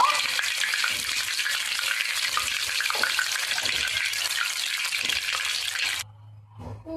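Whole spices such as cumin, fennel, coriander seeds, cardamom, cinnamon and dried red chillies frying in hot oil after fish, a loud steady sizzle with light stirring scrapes that cuts out abruptly near the end.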